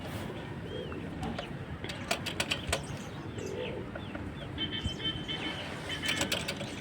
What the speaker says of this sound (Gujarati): તો હવે સ્ક્રૂ બંધ કરી દઈશું